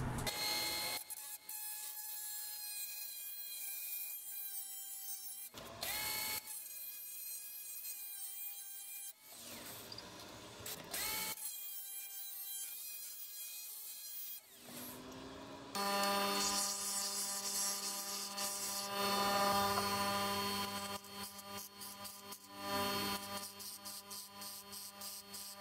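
A thin strip of steel for a marking gauge knife is cut by hand in several rasping bursts separated by short pauses, followed by a longer, brighter, continuous metallic grinding.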